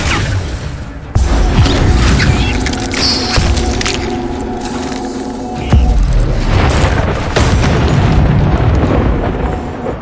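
A fire spell being cast in a video game: loud booming, explosive bursts with whooshing flame roar, a big blast near the start and another midway, sustained crackling rumble between.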